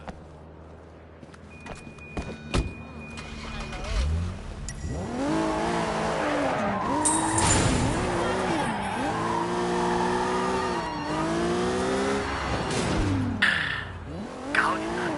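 A car in the video game Sleeping Dogs accelerates and skids, its engine note climbing and dipping in waves while tires squeal loudly, after a quieter opening with scattered clicks.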